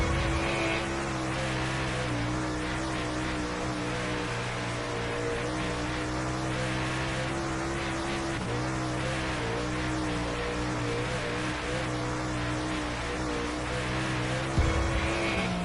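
A race car in a sim racing game, played with a wheel, gives a loud continuous high-revving engine whine that climbs and drops through gear shifts and corners for the whole stretch, with no talk over it.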